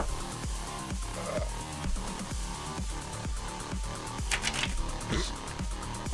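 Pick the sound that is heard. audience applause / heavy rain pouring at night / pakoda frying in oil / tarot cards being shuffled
tarot cards being shuffled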